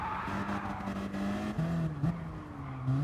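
A race car in Gran Turismo Sport skids and nearly spins out, its engine note rising and dipping under a steady tire squeal, loud and continuous through the short stretch without talk.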